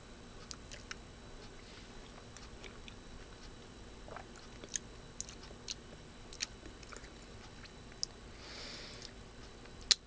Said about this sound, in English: first time eating a grapefruit ever